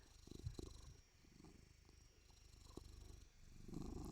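A large male cat purrs in a steady, low rumbling rhythm close by, the soft pulsing continuing throughout with no speech over it.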